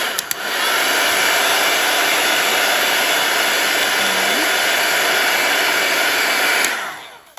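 A loud heat tool blows a steady, roaring whoosh close up while drying ink on a card, switching on abruptly and cutting off after about six seconds.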